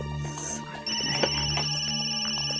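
A mobile phone ringtone rings indoors: a steady, repeating electronic melody playing loud and continuous throughout, with no one talking over it.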